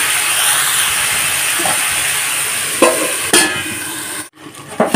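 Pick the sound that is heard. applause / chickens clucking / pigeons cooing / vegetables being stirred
vegetables being stirred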